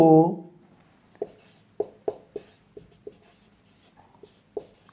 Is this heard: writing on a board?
yes